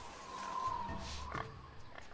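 A boar cry from the Tales of Monkey Island adventure game, a rough grunting call over a humming background tone, moderately close with no voices.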